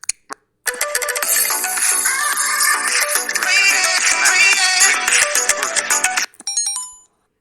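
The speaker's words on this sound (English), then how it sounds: "ఇది SMS tone friends." A phone SMS notification tone sounds loud and close: a short click, then about six seconds of bright, dense melodic chiming, ending in a brief sparkling tail.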